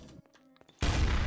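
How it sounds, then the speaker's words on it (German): Gunfire in a Garry's Mod Trouble in Terrorist Town round, a loud dense burst of shots that cuts in abruptly after a quieter stretch of faint scattered in-game sounds and runs to the end. "Ich höre eine Schüsse."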